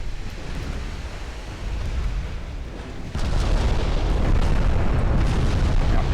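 Close-range naval broadsides from Greek warships Aspis and Thermopylae in a Greek extended campaign game, heard as a continuous loud rumbling barrage of deep booms that swells heavier midway and stays dense to the end, with no talk.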